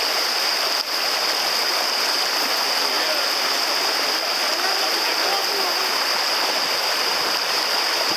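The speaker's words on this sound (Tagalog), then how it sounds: "We're crossing to the other side of the river. At ang current, napakalakas!" A strong river current rushes in a loud, continuous roar close by as people wade across on foot, with the water noise staying dense and unbroken throughout.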